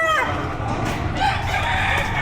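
Roosters crow and chickens cluck loudly at a livestock auction market in Padre Garcia, Batangas, with the busy crowd noise and some voices mixed in underneath.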